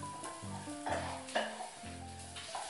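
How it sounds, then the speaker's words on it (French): Onions frying in a pan as a sauce is heated on the stove for a simple Christmas recipe, a steady close sizzle with stirring scrapes and a few louder clatters, no voices. "C'est une genre de sauce qu'on va faire chauffer avec nos oignons en train de blanchir."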